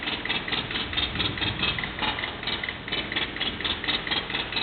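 A vehicle engine running rough, suspected of water in a cylinder, chugs with a loud, steady, uneven knocking rhythm close by, with no talking.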